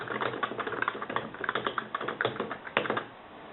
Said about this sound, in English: You can type on it, and it sounds like a real keyboard.